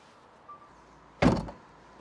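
A car door on a BMW 420i convertible shuts with a single solid thunk, close and fairly loud against a quiet interior background.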